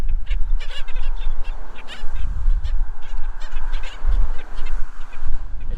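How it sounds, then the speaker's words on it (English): A flock of beach birds on a Florida shoreline squeaks and honks together in repeated short bursts, with steady low wind and surf rumble underneath. "They're probably squeaking in unison because of the dead bird."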